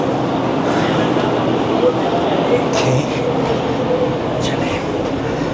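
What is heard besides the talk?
train at Rohri station, 5UP Green Line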